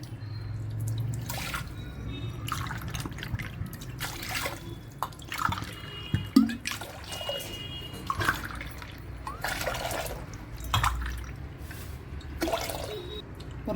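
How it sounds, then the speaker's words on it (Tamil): Water poured from tumblers into a heavy pot while cooking urad dal kali, heard as a series of separate splashing pours and drips, close and fairly quiet, with no voices. "நான் 5 டம்ளர் தண்ணி ஊற்ற போகிறேன்."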